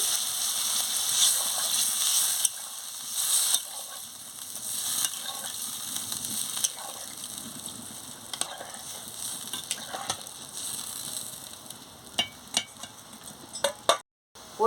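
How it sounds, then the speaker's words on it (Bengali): Soybean curry with water simmering in a pot bubbles and sizzles steadily, with intermittent clinks and scrapes from stirring and a few sharper knocks near the end. "এবারে টকবক করে ফুটে গেছে"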